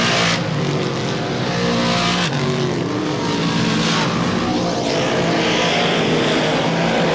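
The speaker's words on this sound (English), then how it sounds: "Travis Braun having a fantastic run in the 76 car tonight" 358 modified race cars roar around the Merrittville Speedway oval during a feature race, a loud continuous engine drone with cars surging and passing, filling the whole stretch.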